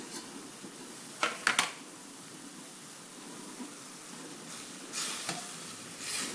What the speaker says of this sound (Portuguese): Coloco na frigideira um pouco de óleo e coloco a cebola triturada